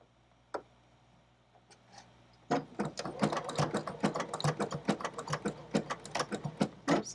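A sewing machine stitches an English paper piecing quilt in a rapid run of close, evenly spaced mechanical clicks after a couple of isolated taps, loud and alone with no talk.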